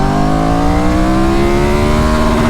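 A 2025 Triumph Tiger 1200 GT Explorer motorcycle pulls hard in second gear, its engine note rising steadily and loud, close and constant, with no voices.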